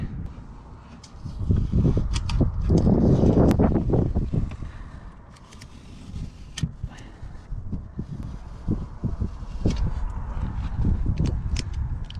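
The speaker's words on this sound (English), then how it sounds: "It's a little windy today, so gotta be extra careful." Wind gusts rumble against the microphone, swelling loud then easing, with scattered light knocks and handling noises throughout.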